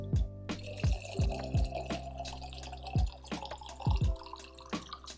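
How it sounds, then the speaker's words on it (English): Water running and dripping in a home kitchen, with several distinct drips and splashes landing close by, each one sharp and fairly loud in an otherwise quiet room, spread unevenly across a few seconds. "getting some water"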